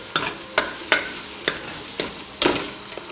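Ginger-garlic paste is stirred and lightly roasted in a kadhai, a spoon scraping in sharp, regular strokes about every half second over a soft, low sizzle.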